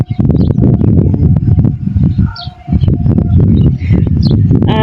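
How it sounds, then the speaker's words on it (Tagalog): Birds calling and cooing beside a countryside road, with loud chirps and dove-like coos over a busy, rustling background. "Dito ko po nakita yung maraming mga ibon na lumilipad guys."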